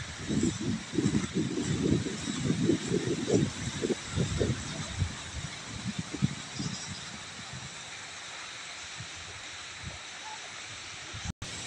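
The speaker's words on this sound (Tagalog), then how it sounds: "Malakas ang hangin guys." Gusty wind roars and buffets the microphone in rainy weather, with rustling foliage, then eases to a steadier, quieter rush.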